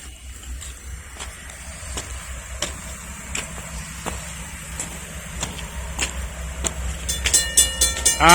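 A Norfolk Southern train rolls past the Carroll Avenue level crossing in Lynchburg, Virginia, with a rhythmic clickety-clack of wheels that grows louder, and a bell starts ringing near the end.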